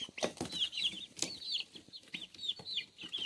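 Barred Rock chickens eating greens cluck softly up close, a quick run of short murmuring clucks and brief rustles with no one speaking.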